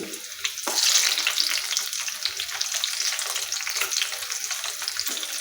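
Chopped garlic and onion pieces hit hot oil in a pan and crackle into a bright, steady sizzle, with a sharper burst at the drop and light stirring scrapes afterward.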